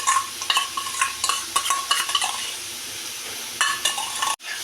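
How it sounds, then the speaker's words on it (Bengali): Onions frying in a pan for a katla fish curry, stirred with a utensil in repeated scraping bursts over a steady low sizzle, close and clear with no talking. "পেঁয়াজটা একটু ভাজা ভাজা ভালো করে করে নিই ভালো করে নাড়তে হবে"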